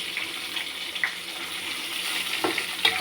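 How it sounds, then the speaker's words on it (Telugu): Chopped vegetables fry gently in plenty of oil, giving a soft, even sizzle with a few faint clinks of a utensil, heard close and alone. "ఇవన్నీ అయితే నూనెలో మెత్తగా ఉడకాలి"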